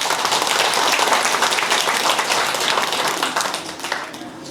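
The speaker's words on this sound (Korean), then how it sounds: "힘찬 박수 부탁드리겠습니다" Vigorous applause from members at a Korean redevelopment union's extraordinary general meeting, a dense, loud wash of clapping that holds steady for several seconds before tapering off slightly near the end.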